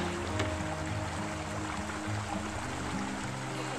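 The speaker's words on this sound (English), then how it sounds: "There's a little creek right here." A small creek at a campground flows with a steady, even rush of water throughout, with low rumbling undertones and no voices.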